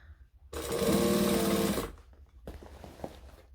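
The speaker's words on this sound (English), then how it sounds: "So I'm just moving it right to the edge, top stitching down" Sewing machine topstitching right along a fabric edge, a fast steady mechanical whir that runs for just over a second, close and loud, then stops, followed by faint handling noises.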